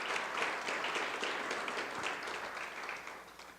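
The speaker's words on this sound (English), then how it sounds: "Please, a round of claps." A conference audience applauds after a speaker's talk. The clapping is dense and sustained, strongest at first, then slowly thins and fades.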